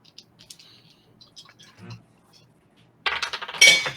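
Metal dice clattering and rolling onto a table, a bright burst of clinks near the end after quiet, scattered taps.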